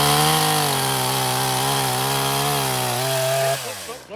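STIHL chainsaw cutting into a tree, a loud close engine whine held steady under load before dropping off as the cut ends.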